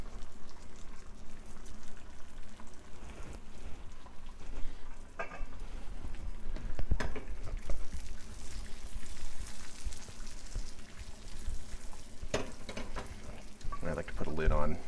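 Sunny side up eggs with a pinch of salt sizzling in a pan, a soft steady crackle with a few louder pops and clinks, heard under a person speaking.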